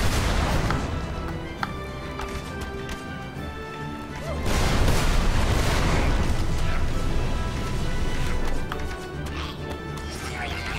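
Fire spell cast in Magicka, a sustained roaring crackle with bursts and crashes that swells midway and continues under chatty speech from players.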